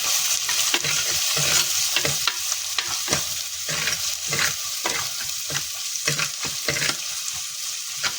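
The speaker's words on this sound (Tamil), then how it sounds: "பச்சை மிளகாய் போட்டுக்கிறேன், இஞ்சி இந்த வெள்ளத்தையும் போட்டுக்கலாம். போட்டு இதை நல்லா மிக்ஸ் பண்ணிக்கலாம்." Green chilli and ginger frying in a pan while being stirred, with a continuous bright sizzle broken by repeated scraping strokes of the spoon, close and steady.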